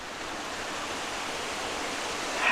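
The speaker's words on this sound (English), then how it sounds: "Just a beautiful little waterfall" A small waterfall pours in a steady, dense rush of falling water, constant and close, with no voices over it.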